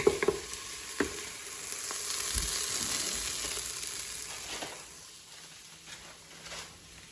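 Chuck steak and onions fry in a pan for chilli con carne, a bright steady sizzle with occasional utensil clicks, swelling and then easing toward a quieter hiss, close and with no talking.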